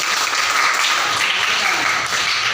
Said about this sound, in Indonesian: Berikan tepuk tangan buat teman-teman.